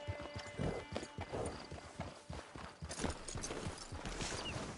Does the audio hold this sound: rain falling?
no